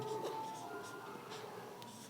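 A pen or marker scratches across a board in short strokes while writing out a triangle area calculation, soft close scraping marks with a faint tone from the recording underneath.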